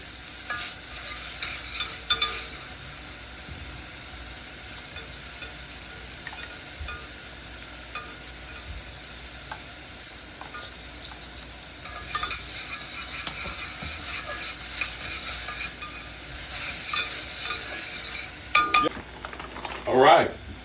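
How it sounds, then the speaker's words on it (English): Mirepoix vegetables sauteing in a pot give a low, steady sizzle, with stirring scrapes and clinks of utensils against the pot, louder bursts near the end. "now our mirepoix veg has kind of sauteed a bit and softened"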